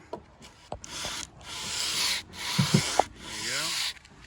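Hand sanding of a wood window sash with sandpaper wrapped on a block, heard as several close back-and-forth rubbing strokes in a steady rhythm, with a few light taps between strokes.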